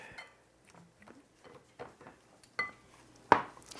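Sparse clinks and scrapes of a utensil against a bowl as breadcrumbs are mixed with melted butter, quiet and intermittent with a sharper knock near the end.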